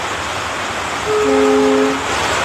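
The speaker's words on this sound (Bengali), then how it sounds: "ওই দেখো ট্রেন যাচ্ছে উপর দিয়ে" A train passes overhead during heavy rain, a sustained horn blast sounding over steady background rumble and rain noise, swelling briefly then fading.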